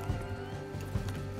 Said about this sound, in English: Where's my horse? Right behind you. Here she is.